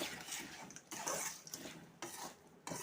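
Spoon stirring and scraping a poha (flattened rice) mixture in a pan, continuous clinking and rustling strokes with short pauses, close and moderately loud, no talking.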